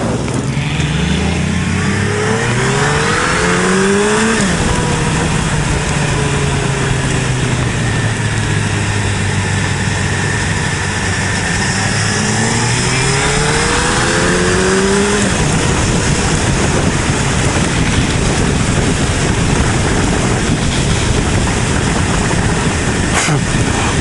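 A 2008 Suzuki Hayabusa motorcycle rides at high speed, its engine pitch rising and falling through gear changes over a constant loud rush of wind, close and continuous.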